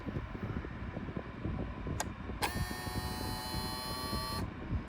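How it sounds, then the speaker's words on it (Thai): A printing calculator's motor whirs steadily but cannot drive its loose, stripped drive gear; a faint hum rises into a louder, even electric whine for about two seconds, then drops back. "คือมอเตอร์มันหมุนนะแต่ว่ามันมันขับเฟืองไม่ได้"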